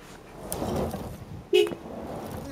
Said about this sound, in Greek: κορνάρισε να φύγει από τη μέση